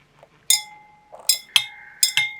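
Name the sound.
glass rod stirring in a glass beaker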